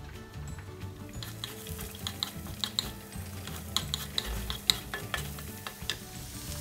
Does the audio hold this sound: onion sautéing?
yes